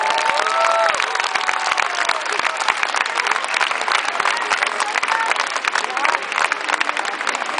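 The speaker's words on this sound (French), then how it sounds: "Merci de les applaudir très fort." Outdoor crowd applauding in front of the French Senate at a rally, a dense, steady wash of clapping sustained throughout, with voices and cheers mixed into the noise.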